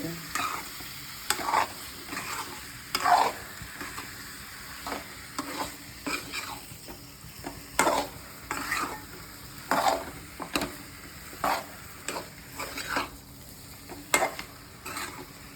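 Chicken gravy stirred in a pan over a low flame: repeated scraping strokes of a spoon against the pan at an irregular rhythm, over a soft, steady simmer. Close and fairly quiet, with no voices.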